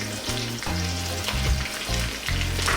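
Sliced onion with crushed ginger and garlic fries in coconut oil over medium heat, a close, loud sizzle broken by stirring scrapes and clatter, with no voices.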